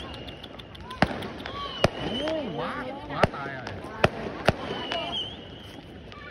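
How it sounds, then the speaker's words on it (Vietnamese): Fireworks bursting over Ho Chi Minh City at New Year 2025, with sharp booming cracks at irregular intervals and crackling between them, while people talk excitedly nearby throughout. "Pháo này đẹp quá."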